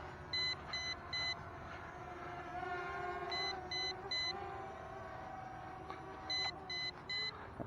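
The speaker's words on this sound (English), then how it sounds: "Low battery warning starts beeping at you when it shows half on the controller" Holy Stone HS510 drone controller sounding its low-battery warning: three groups of three short, high electronic beeps repeating at steady intervals over a constant background hum and outdoor noise.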